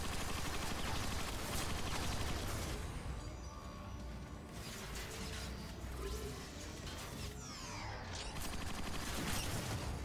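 Gunfire aimed at the player in a sci-fi shooter game, a busy fusillade of sharp shots and crashing impacts, loud and steady throughout with a brief lull in the middle before bursts pick up again.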